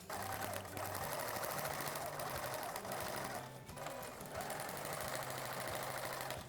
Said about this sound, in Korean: 꺾어서 한 번 더 눌러 박아서 상침을 해서 완전히 고정을 시켜줄게요